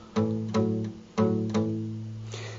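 Palm-muted guitar strums with the strings dampened give four short, thudding chords whose ringing dies away quickly. They are played close up, with no voice over them.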